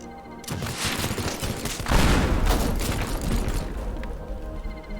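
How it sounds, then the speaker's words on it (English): A pipe explodes in the destruction game Teardown: a loud, close rumbling blast with crackling debris that swells after a brief lead-in, then rolls on and slowly fades over several seconds. "Did exploding that pipe do anything other than be pretty cool?"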